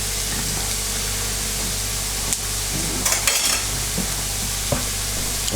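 Chilli being stirred into corned beef hash frying in a pan, a steady close sizzle with a few scraping stirs of the utensil against the pan, no voices.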